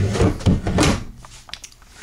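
A long three-foot storage drawer in an RV kitchen slides and thuds a few times, with rumbling bumps close by, then quieter clicks and small knocks follow.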